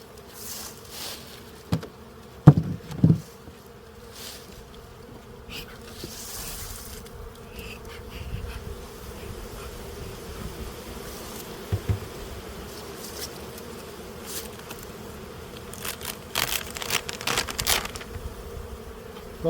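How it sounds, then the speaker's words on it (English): Honey bees buzz in a steady, dense drone around an opened hive in spring, close and continuous, with a few brief louder handling knocks near the start and no voices. "And this hive was really cooking back at the first of the month when I opened it up."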